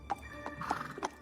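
A horse in The Oval Portrait video game whinnies in a quick, faint series of squealing neighs, with light hoof clops mixed in.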